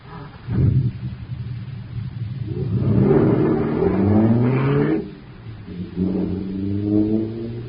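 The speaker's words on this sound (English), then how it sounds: "Wow, this jet car is supercharged now." A radio drama jet car engine sound effect starts up and revs, rising in pitch in whining sweeps with a deep rumble underneath, dropping briefly before climbing again.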